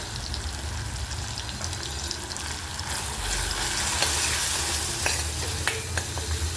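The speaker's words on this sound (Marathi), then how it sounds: "छान मिक्स करून घ्यायचं आहे" Turmeric and chili powder are stirred into a black Khandeshi masala in a sizzling pan, making steady frying noise with scraping strokes that grow louder midway.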